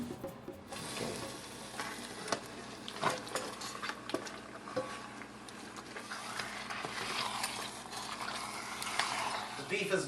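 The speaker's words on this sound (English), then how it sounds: "It's time to add the meat." Beef stirred into dark brown vindaloo paste in a pot, with scraping, clinking and soft sizzling that pick up toward the end; a person talks over parts of it.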